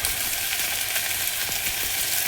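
Tomatoes sprinkled with salt sautéing in a pan, a continuous close sizzle and crackle with a few faint stirring touches, no voices heard.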